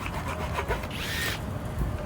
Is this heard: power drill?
yes